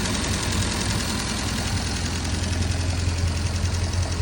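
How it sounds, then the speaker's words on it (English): A 73-year-old Fordson E83W van engine idles steadily, a close, continuous low mechanical rumble with a faint rhythmic knock and no speech. "I think I've now officially had it idling for longer than I would probably be driving it down the road for in one go"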